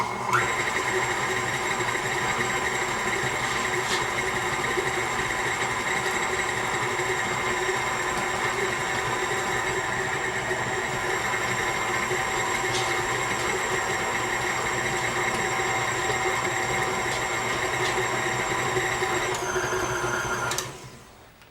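An electric mixer creaming coconut palm sugar for cookie batter, a steady whirring motor hum with a constant high whine that runs close and unbroken before cutting off at the end.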